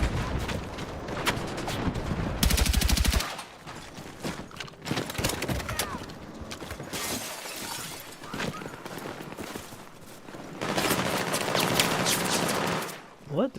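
Bursts of rapid automatic gunfire from a magazine being emptied in the shooter game Battlefield 6, loud and sharp, separated by quieter stretches of game noise.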